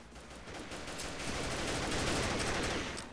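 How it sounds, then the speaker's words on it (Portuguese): Rapid gunfire from the online shooter Combat Arms, a dense, continuous stream of shots that swells slightly in the middle and stays moderately loud, with no voices over it. "Ouvi tiro pra cá, velho"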